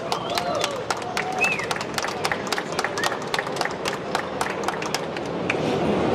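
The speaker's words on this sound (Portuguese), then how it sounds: "uma merecida salva de palmas para eles" Audience applause at a real estate business event, a dense, steady wash of many hands clapping that fills the whole stretch at moderate loudness, with no talk over it.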